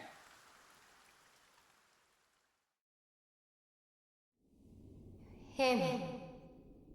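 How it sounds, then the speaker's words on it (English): Rain falling in the video game Dragon Quest I HD-2D Remake, a soft steady patter that fades into silence, after which a louder burst of game sound and music cuts in. "The rain doth fall, and soon enough the sun."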